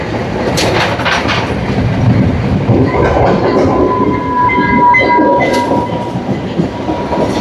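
A passenger train running from Jaffna to Kataragama in Sri Lanka rumbles loudly and continuously, with rhythmic wheel clatter and faint metallic squeals from the rails, recorded close by.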